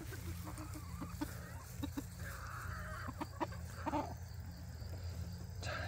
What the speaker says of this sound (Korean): 우리 닭들은 식빵을 먹는 닭이에요.